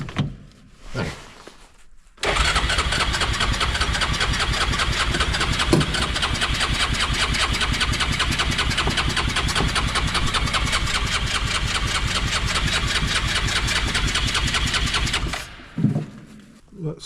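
A Yamaha side-by-side engine cranks over, catches and settles into a steady, loud, even idle that runs for about thirteen seconds before cutting off, with brief talk before and after.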